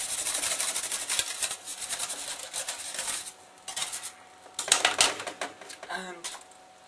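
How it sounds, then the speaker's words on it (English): A whisk beats flour lumps out of gravy for roast lamb in a metal pan, giving quick, busy metallic clicking and rattling in bursts, nearby and moderately loud. "it's just a matter of a good whisk to get rid of it all"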